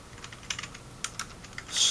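A short burst of typing on a computer keyboard to enter a command on a Micromite setup: several light, quick key clicks spaced unevenly, close and clear, ending in a brighter cluster of strokes.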